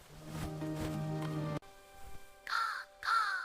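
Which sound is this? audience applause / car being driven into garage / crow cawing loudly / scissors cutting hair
crow cawing loudly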